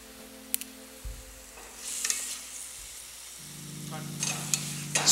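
Prawns with a piece of bay leaf are stirred in a pan, giving a quiet sizzle with scraping spoon strokes and soft clinks. The frying swells in a couple of brief hissing bursts against a low steady hum.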